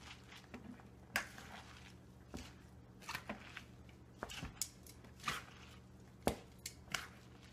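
Kimchi being mixed with its chili paste by hand gives soft, wet squishing and patting sounds in irregular bursts, fairly close and quiet, with no voices.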